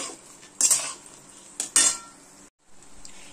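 Whole cardamom, mace and cinnamon are stirred in a pan for pulao: a spoon scrapes and clinks against the metal in a few sharp strokes over a soft sizzle, then a brief pause and quieter stirring resumes.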